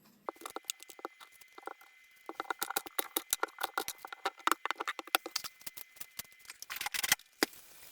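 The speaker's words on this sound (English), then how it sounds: "let's get started chopping stuff up." A knife chops ingredients for a homemade green drink on a cutting board, giving quick, quiet, irregular taps in uneven bursts that speed up toward the end. No voices.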